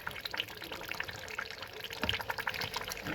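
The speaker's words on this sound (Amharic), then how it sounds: "እዚህ ጋር ትንሽ ከተዋሃደልን በኋላ ውሃ ከለስ እናደርገዋለን።" Water pours into a pot of chicken stew in a home kitchen, a steady close pour with light splashing and dribbles running for a few seconds, no voices over it.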